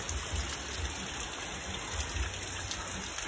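Soft, steady patter of rain falling on a surface, a faint continuous hiss with a few low rumbles underneath.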